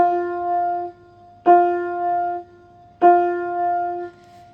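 A beginner's piano note, an F played with the ring finger, struck three times at an even pace, each note held for about a second and then released, clear and alone in a quiet room.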